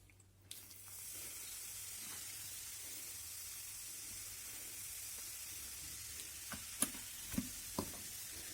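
Baking soda and white vinegar give a steady fizzing hiss throughout, with a few faint clicks and taps near the end.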